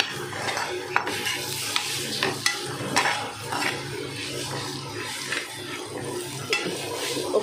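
Coriander powder and turmeric are stirred into okra frying in a pan, with a close sizzle under repeated scraping and clinking strokes of a spoon against the pan, fairly loud and irregular.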